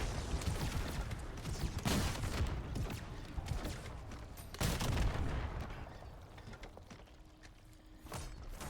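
Gunshots in a video game, a few heavy, booming blasts spaced several seconds apart over a constant rumbling, mechanical game backdrop.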